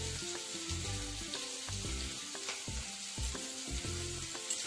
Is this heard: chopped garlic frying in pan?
yes